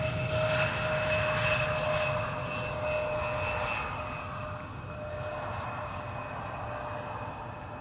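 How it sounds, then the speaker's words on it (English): An Embraer 170 jet arrives at Amsterdam Schiphol Airport, its steady engine roar loud at first and easing slightly as it passes, with sustained whine tones over broadband rumble and no talk. "Embraer 170, arriving from Teesside or Darlington"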